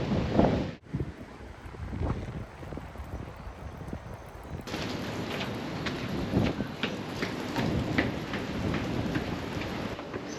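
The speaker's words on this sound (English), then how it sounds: "it's still really windy in Tassie" Strong wind gusts in Hobart, Tasmania, roaring and buffeting the microphone continuously, loud and close, with bursts of rumbling turbulence throughout.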